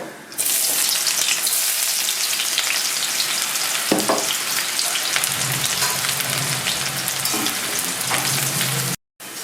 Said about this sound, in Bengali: তেল গরম হয়ে গেছে আমি দিয়ে দেবো দুটো শুকনো লঙ্কা আর দেবো অল্প পেঁয়াজ কুচি